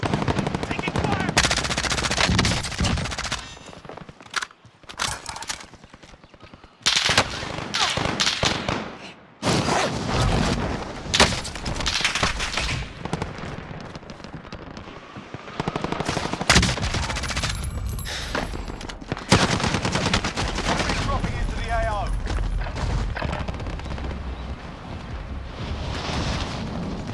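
Sustained gunfire from the video game Call of Duty Modern Warfare, with dense bursts of automatic weapon fire, explosions and heavy rumble filling the whole stretch, loud and close with only brief gaps.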